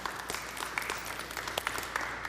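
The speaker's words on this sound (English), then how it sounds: "Let's give them a round of applause." Audience applause at a youth town hall held in a high school building, a steady wash of many hands clapping for the full stretch at moderate loudness, with no voices over it.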